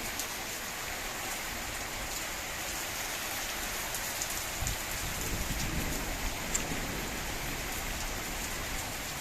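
Steady summer rain in July at a country garden plot pattering on a surface, a continuous close hiss with scattered droplet ticks throughout.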